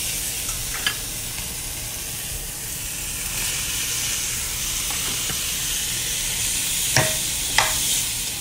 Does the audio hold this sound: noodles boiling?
yes